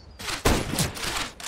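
Gunfire in the game CS:GO during a competitive Wingman match, with a sniper rifle among the weapons: loud broadband blasts, one sharp report near the middle, over continuous rattling shots that run through the whole short burst.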